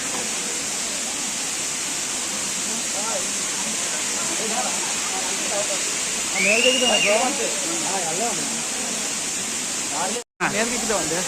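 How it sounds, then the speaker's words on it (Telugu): Katika waterfall at Araku gives off a constant broadband roar that stays even throughout, with people talking over it. "అది కటికి వాటర్ ఫాల్స్."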